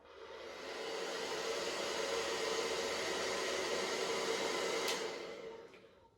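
A L'ange Bijou hair dryer runs on its lowest setting at a soft, steady whoosh for several seconds before switching off with a click, fairly quiet and close.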